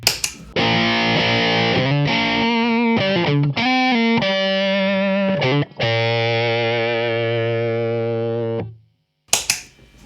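Electric guitar fitted with a GMRspares Varitone Kit, switched into a cocked-wah tone on positions 3 and 4: loud, distorted sustained notes and chords with a nasal, vocal filter honk, played in phrases before cutting out near the end.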